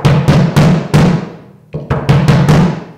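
Bass drum kicks on a kit with the batter head tightened a little, about eight deep, punchy thumps played alone in an uneven rhythm, close and loud, each with a short boomy decay.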